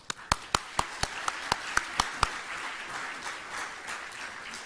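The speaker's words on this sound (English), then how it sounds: "I'm going to ask you to applaud at the beginning and thank them for coming here." A panel audience at a legal conference on offshore courts starts applauding, with a run of about nine crisp, evenly spaced claps. These are followed by a softer, fading patter of applause.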